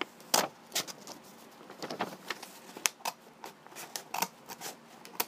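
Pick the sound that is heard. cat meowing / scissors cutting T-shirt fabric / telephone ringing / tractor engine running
scissors cutting T-shirt fabric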